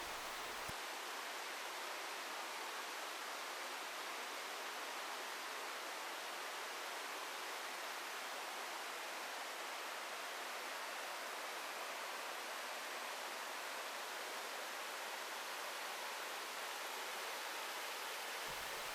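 A mountain stream in Gucheondong Valley on Deogyusan, at the Bipadam pool, makes a steady, dense rush of flowing water that stays constant and fairly loud throughout, with no voices.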